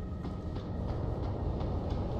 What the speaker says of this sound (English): is this just a subway station?